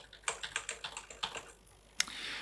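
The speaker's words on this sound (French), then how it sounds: "je suis en train de taper sur le clavier et il ne se passe strictement rien" Close keyboard typing, a quick run of light clicking keystrokes, then a pause and one sharper key press near the end.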